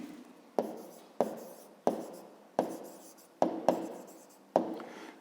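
Pen scratching on paper while working a fifth-grade math exercise, seven short quick strokes at regular intervals, each a sharp onset fading out, close and quiet with no talk.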